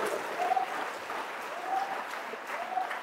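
A church congregation at a Pentecost revival evening applauding, with sustained clapping from a crowd, scattered cheers and whistles, and some voices mixed in.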